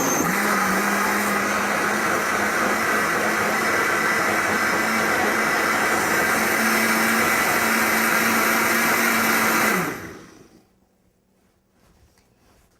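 A countertop blender with a towel draped over it purees creamy tomato soup, a loud, steady motor whir with a churning roar that runs unbroken for about ten seconds, then winds down and cuts off into near silence.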